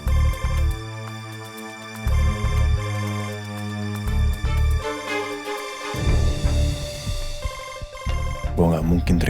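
Telephone ringing with a melodic ringtone, repeated tonal phrases close by, with talk and other sounds coming in toward the end.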